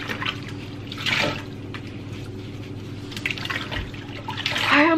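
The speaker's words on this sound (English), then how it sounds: "I'm just go ahead and rinse these out, condition them in this water" Water runs and splashes faintly in a sink while hair bundles are rinsed, with soft intermittent gushes and drips over a low steady hum.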